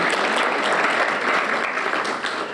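Steady, full applause from an audience at a university Women's Day celebration, a dense wash of clapping hands filling the hall throughout.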